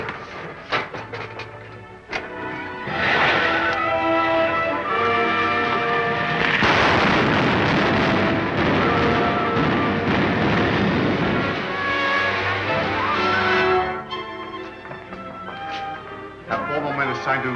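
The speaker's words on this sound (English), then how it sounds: "Fire the starting rocket, Wilma." Starting rocket of a rocket ship firing in a 1939 Buck Rogers serial, a sustained roaring rumble that swells after a couple of seconds, holds steady, then fades toward the end, loud and dense.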